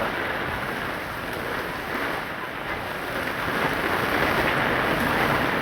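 Overflowing drain water rushes and gushes steadily, a dense continuous roar that surges slightly louder toward the end, with no voices.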